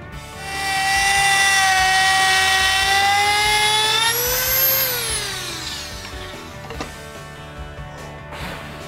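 Router cutting a groove in base molding: the motor spins up to a loud, steady high whine, holds, then its pitch sweeps and winds down over several seconds, ending in lower mechanical rumble and a few knocks.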